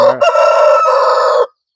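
A single loud crow from a large Aseel rooster close by, a full strained call lasting over a second, then a brief squawk.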